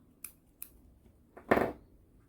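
Scissors cut crochet yarn while a small amigurumi lion keychain doll is being made: two light, quick snips followed by one firmer, louder cut, close up and quiet.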